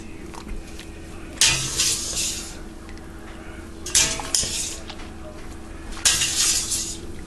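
Penne pasta and sausage are stirred in a skillet, with metal utensil scrapes and clanks against the pan coming in three bursts over a low kitchen background.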